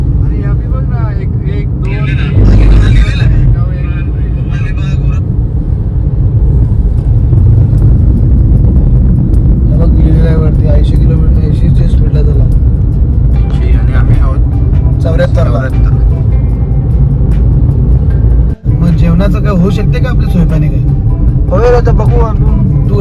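A car travels along a road in Mumbai, its loud steady engine and road rumble running throughout while people talk inside, with one sudden brief break near the end.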